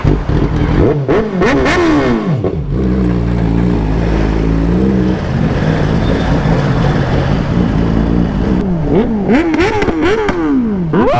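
A new Yamaha R1 motorcycle being run in, its engine loud and close, revving up and down through gear changes with rising and falling whines, settling into a steady drone before climbing again.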